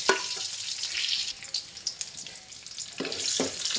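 Mustard seeds, curry leaves and four or five dried chillies frying in hot oil, a steady close crackling sizzle with scattered pops and a few sharper spits near the end, no voices.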